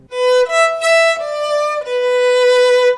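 A violin plays a short, slow melody of a few sustained bowed notes from the Spanish song San Lucas, clear and close, with no talking.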